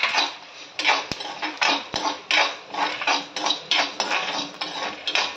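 Black pepper, cumin and roasted gram dry-roasting in a pan for horsegram podi, a rhythmic series of scraping, rattling stirs roughly twice a second, with a couple of sharp clicks, no speech.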